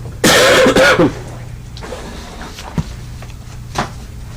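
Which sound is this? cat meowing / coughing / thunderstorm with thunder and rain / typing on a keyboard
coughing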